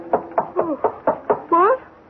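A radio drama sound effect of a series of sharp knocks on a door, six or seven evenly spaced raps, followed by a brief spoken voice.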